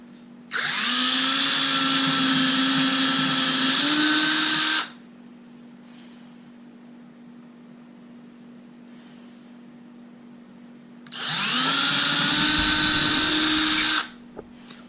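A power drill bores holes through a knife sheath in two loud sustained bursts of whining, each about four seconds, separated by a quiet pause.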